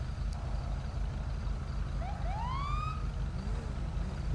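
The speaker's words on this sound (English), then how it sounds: "I just heard sirens." A police siren wails in the GTA 5 video game, a single rising and falling tone sweeping up once near the middle, faint and somewhat distant over a constant low engine rumble.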